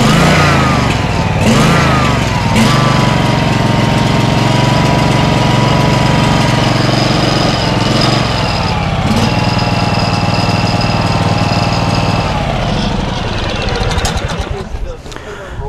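A gasoline engine converted to run on propane starts up and runs steadily, a loud close-up chugging drone with a few revs and knocks, under occasional talk, winding down near the end.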